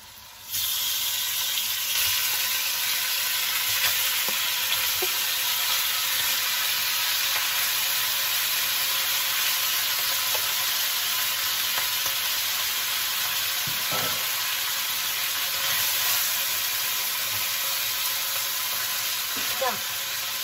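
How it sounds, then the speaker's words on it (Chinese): Beef pieces hitting a hot wok with browned garlic, a loud, steady, unbroken sizzle with faint stirring clicks, close up for the whole stretch. "这个时候我们就可以把这个牛肉放进去"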